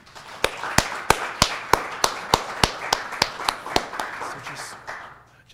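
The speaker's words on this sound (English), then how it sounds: "Please give a round of applause for Tu Tran." Sparse, evenly spaced claps ring out after a presenter is introduced at a RISO print studio showcase: roughly a dozen sharp, distinct hand claps over a soft room murmur, sounding like a small audience rather than a large crowd.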